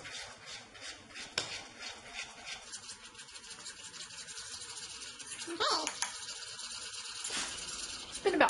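Honey, coconut oil and cocoa powder stirred in a bowl for nut butter bites, giving soft scraping and rubbing strokes of a utensil against the bowl, with a few louder clinks and scrapes near the end.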